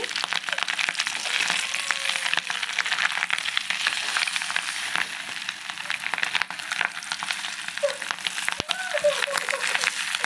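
Fish roe frying in oil and being turned over, a dense crackling sizzle throughout with scattered pops and a sharp clack from the flip, under a person's speech.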